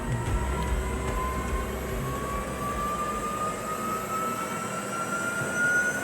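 A Porsche Taycan Turbo S electric drive motor spinning up on a factory test bench toward high RPM, a steady whine that rises slowly in pitch over a constant broadband rumble, loud and close.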